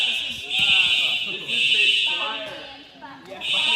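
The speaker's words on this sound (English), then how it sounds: "Set off the fire alarm of the fog machine." A fire alarm set off by fog machine haze sounds as a loud, steady high-pitched electronic tone in long blasts with short breaks between them, while voices talk and laugh underneath it.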